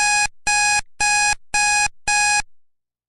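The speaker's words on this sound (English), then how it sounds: "I heard a loud beeping." Five loud, evenly spaced electronic beeps sound in quick succession, then stop, leaving silence.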